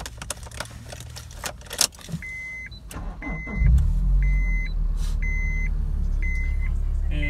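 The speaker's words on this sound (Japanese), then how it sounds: "ちょっとエンジンかけてみます。" A Honda S2000 AP2 with an aftermarket muffler starts up inside the car, preceded by keys jangling and a series of warning chimes, then a low, steady idle rumble settles in close by.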